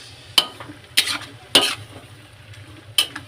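A utensil scrapes and clacks against a pan as hotdog and chicken spaghetti sauce is stirred, four distinct sharp strokes over a low sizzle, close up with no speech.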